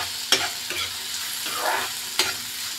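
Turmeric frying in a pan for besan kadhi, with a soft steady sizzle and a few sharp scrapes of a spoon stirring against the pan, close and with no voices.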